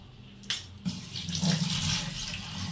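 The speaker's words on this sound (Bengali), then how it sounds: "মশলাটা একটু জল দিয়ে ভিজিয়ে রাখবো" Water from a tap splashes onto ground spices in a bowl, a short close pour that starts after a brief clatter and runs steadily to the end, with no voices.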